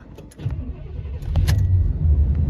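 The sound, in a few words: 1993 Chevrolet Suburban 350 V8 engine starting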